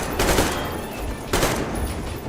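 Two bursts of gunfire from the game Metro, roughly a second apart, loud and close, each a broad rushing blast with a short rolling tail, no talking over them.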